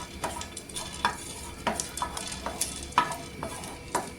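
Black peppercorns, cloves and cinnamon dry-roast in a kadhai on a gas stove, with quiet irregular scraping and clicking of a spatula stirring the whole spices and a faint sizzle underneath.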